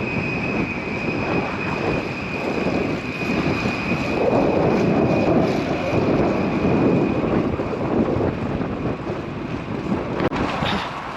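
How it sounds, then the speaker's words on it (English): A cyclist rides north into a strong headwind with 23 to 25 mph gusts, a continuous loud broadband roar of wind across the microphone that holds steady for the whole stretch, with no talking. "Still fighting the headwind."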